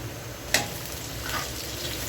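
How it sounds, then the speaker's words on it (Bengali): Onion frying in oil as whole cumin seeds go in, a constant close sizzle with one sharp clink of a spoon on the pan and a light stir afterward, no voices. "পেঁয়াজটা ভাজা হচ্ছে এখন আমি পেঁয়াজের ভিতর কিছু আস্ত জিরা দিয়ে দিচ্ছি"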